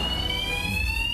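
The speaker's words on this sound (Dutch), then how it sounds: "je zag meteen weer heel mooi wat Nederlanders doen als ze een brandalarm horen" A fire alarm blares inside a television studio during a live broadcast, a steady, loud electronic tone that holds without a break from start to finish, with no voices over it.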